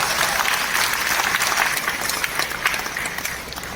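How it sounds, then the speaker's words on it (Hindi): An audience at a network marketing seminar breaks into vigorous applause, a thick wash of clapping that is loudest early and thins slightly toward the end, with a few sharper claps near the close. "एक बार जोरदार तालियां करना चाहिए"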